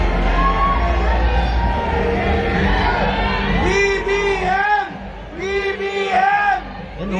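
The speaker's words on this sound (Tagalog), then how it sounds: "Yan o, sigawan o. Sigawan mga tao" A political rally crowd shouts and cheers at a UniTeam caravan in the Philippines, a loud, continuous roar of many voices with bursts of raised yelling swelling in the second half.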